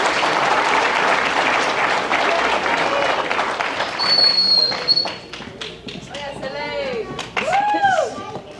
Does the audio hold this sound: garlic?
no